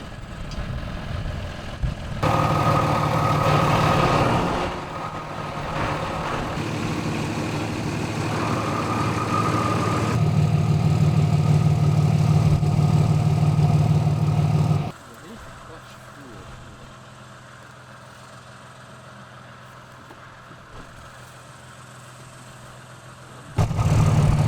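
A Cummins dually truck's diesel engine idles with a steady low rumble that is loud at first, swells midway and then drops to a quieter drone before picking back up briefly at the end.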